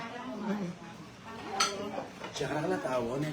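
Dishes and plates clink and clatter in a kitchen, a few sharp knocks among softer rattling, while people talk nearby.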